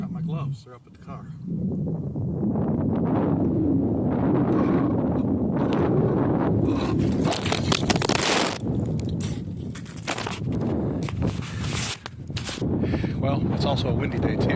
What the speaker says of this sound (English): it's also a windy day too